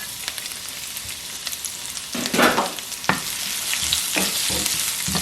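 Raisins and thin carrot slices fry in oil for Afghan chicken pulao, a continuous close sizzle broken by several sharper crackling bursts and stirring scrapes.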